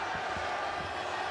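Arena crowd of Buducnost and Györi handball fans at the Women's EHF Final4 semi-final chanting, a broad steady roar with rhythmic pulses under a commentator's voice.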